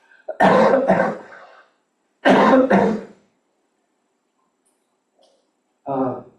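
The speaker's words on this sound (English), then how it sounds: "Excuse me, I've got a cough." A couple of harsh, close coughs separated by pauses, followed by a brief throat-clearing sound.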